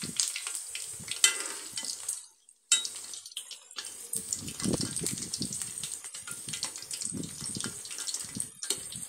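Masala vada frying in hot oil, a steady crackling sizzle running close throughout the clip with a brief dropout near the start, no talking.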